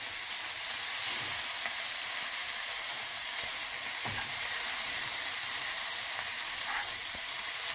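Spinach fries in a pan as it is stirred, a continuous crackling sizzle broken by a few soft knocks and scrapes of the utensil, near and steady with no speech.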